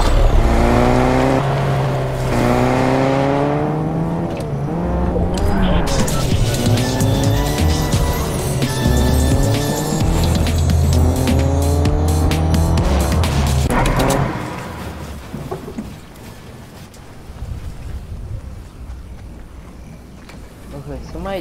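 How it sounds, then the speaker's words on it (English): A car in the Fortnite video game drives with a loud, revving engine that climbs through the gears, and tires squeal and skid before the engine noise cuts out. A player speaks briefly over it. "Oh, is that a car? Oh,"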